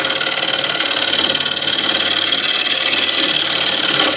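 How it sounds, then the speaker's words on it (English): A hand scraper shaves a wooden piece for a handmade game in one continuous, loud, close scraping rasp that runs without a break until it cuts off at the end. "Scraper is really fast approach for this."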